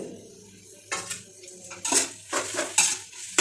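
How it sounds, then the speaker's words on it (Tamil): Onions and tomatoes are stirred and fried in a pan for chicken biryani, with a metal spoon clattering and scraping against the pan in several loud, uneven bursts and no talking. "இது எல்லாமே நல்லா வதங்குற அளவுக்கு நல்லா ஃப்ரை பண்ணிகிட்டே இருங்க"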